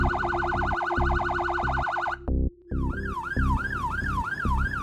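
An emergency vehicle siren wails loud and close, a rapid yelp that briefly cuts out and then switches to a slower rising-and-falling wail, over a steady low engine and road rumble.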